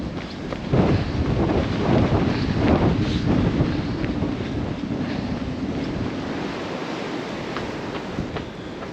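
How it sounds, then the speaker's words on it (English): Strong gusting wind buffets the microphone outdoors near a campsite, a loud continuous rumbling roar with surging gusts that ease slightly toward the end, and no voices. "The wind was so strong coming over, super tough headwind"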